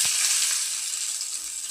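Dried red chillies fry in hot oil, giving a soft, steady sizzling hiss that runs without pause and without any talking.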